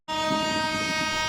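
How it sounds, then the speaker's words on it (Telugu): A superfast express train sounds a long, loud, steady horn blast that starts abruptly and holds for over a second, with rumbling running noise beneath it as it enters a railway station. "సో స్టేషన్ నుంచి ఒక ట్రైన్ అయితే బయటకు వస్తుంది."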